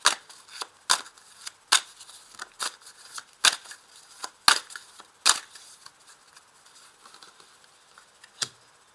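Tarot cards are shuffled, handled and laid down on a table in a series of sharp, close card snaps and slaps, spaced irregularly and fading toward a few isolated taps near the end.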